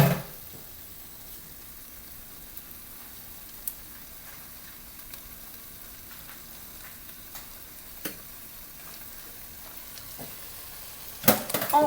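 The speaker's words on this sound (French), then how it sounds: "On remue." Flour being stirred into frying onions for onion soup gives a quiet, steady sizzle with soft scraping stirs, then a sharper clatter right at the end.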